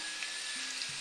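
Eggs for a leek omelette fry in a pan with a steady, close, even sizzle, a bright hiss that holds throughout the short moment with no voices.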